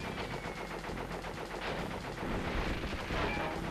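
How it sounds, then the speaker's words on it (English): In-game gunfire aimed at the player in Crash Bandicoot 3, a dense, steady rattle of rapid shots mixed with game noise and music at moderate loudness throughout. "Stop shooting me"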